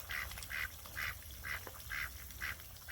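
Pet ducks quacking in a steady, repeated rhythm of about six bursts over a few seconds, fairly close, with a soft wash of background noise and no talking.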